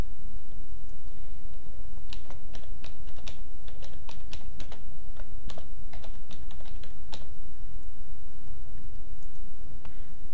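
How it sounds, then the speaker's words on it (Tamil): Computer keyboard typing while entering text in Photoshop, a run of quick, close clicky keystrokes in irregular bursts over a steady low background hum, no talking. "இப்போ வேர்டிங்ஸ் டைப் பண்ண போகிறோம்"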